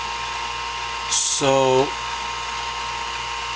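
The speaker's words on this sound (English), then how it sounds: "The holes need to be drilled on the ridge because that's where the model is the thickest." A dental drill boring holes into the ridge of a dental stone model: a brief high whine, then a lower buzzing run of about half a second under steady background hum, with a voice speaking briefly.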